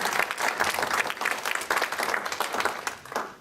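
Audience applause for a women's innovation panel at a forum, a dense steady patter of many hands clapping at once, close and fairly loud, sustained for a few seconds before tapering slightly.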